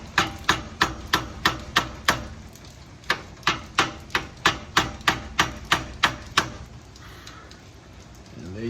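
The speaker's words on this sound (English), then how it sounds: "hammer it the rest of the way" An electric impact tool hammers a small pin into a Honda Civic EG part, about fifteen sharp, evenly spaced close blows, a short pause midway, then quiet.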